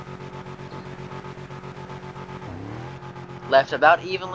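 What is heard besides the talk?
Chevelle car launching in drag race, FiveM video game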